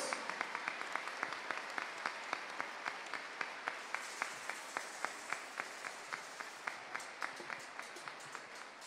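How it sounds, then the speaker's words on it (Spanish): A church congregation applauds after a Gospel reading, an even wash of clapping with distinct, rhythmic unison claps standing out through it, moderately distant and steady for several seconds. "Un aplauso a la palabra de Dios."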